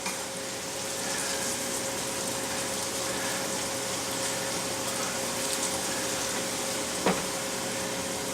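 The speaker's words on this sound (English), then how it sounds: "Strain them a bit." Boiled potatoes being strained as their cooking water drains, a steady close rushing pour holding for about eight seconds with a brief clatter near the end.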